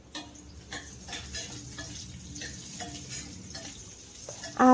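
Fried bitter gourd being stirred in a pan, a series of light scraping clinks of a spatula against metal at an uneven rhythm over a soft sizzle, close and fairly quiet with no voices.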